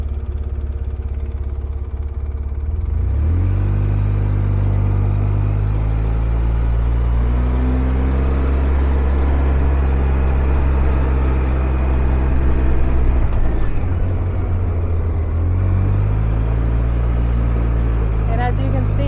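A four-wheeler ATV engine rumbles low and steady on the narrow Cutover ATV Trail 319 near Pagosa Springs, revving up audibly near the start and again late, close and continuous throughout.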